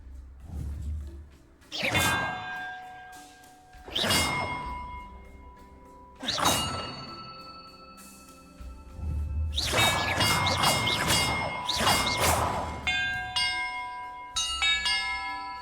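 Bells ring in the Hogwarts Legacy video game, several separate struck tones with long shimmering decays, spaced every couple of seconds, then a denser cluster of overlapping rings near the end.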